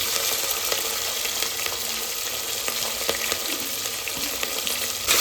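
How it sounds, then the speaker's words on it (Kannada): Onions with green chillies fry in hot oil in a pan for chicken biryani, a steady close sizzle with occasional stirring scrapes, continuous and fairly loud with no talk. "ಈರುಳ್ಳಿ ಹಸಿ ವಾಸನೆ ಹೋಗೋ ತನಕ ಚೆನ್ನಾಗಿ ಫ್ರೈ ಮಾಡ್ಕೊಳ್ಳೋದ"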